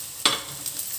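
Garlic and ginger hit a pan of fried onion, giving a sharp burst of sizzle that settles into a steady, close frying hiss with faint stirring.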